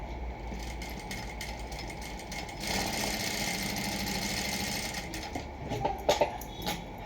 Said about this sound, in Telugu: ఇలా ఫోల్డింగ్ చేసుకుంటూ మనం స్టిచ్చింగ్ అనేది చేసుకోవాలన్నమాట పైపింగ్కి.